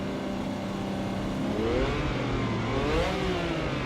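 A Ferrari in the Assetto Corsa racing game revs steadily, its engine note climbing in two rising sweeps over a constant mechanical drone, loud and alone with no voices.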